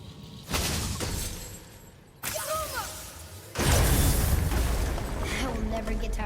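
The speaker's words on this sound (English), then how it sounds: "I will never get tired of shattering things with this." Objects shattering in God of War 4: bursts of breaking and crashing debris in three loud sections, the last heaviest and most sustained, with brief metallic ringing between them and a voice speaking in places.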